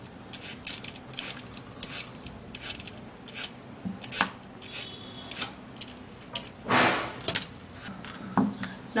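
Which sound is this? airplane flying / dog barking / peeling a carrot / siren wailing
peeling a carrot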